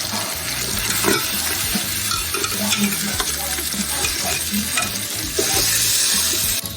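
Chicken frying in a Ninja Foodi air fryer, a continuous bright sizzle with scattered clinks and scrapes as the pieces are flipped, close and steady throughout.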